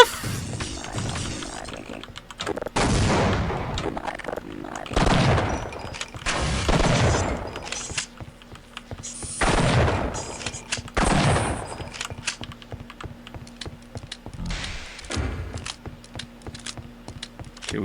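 Grenade blasts and bursts of gunfire from Half-Life: Opposing Force, with loud repeated booming explosions and rapid shots spread across the stretch, some distant rumble and game effects between the blasts.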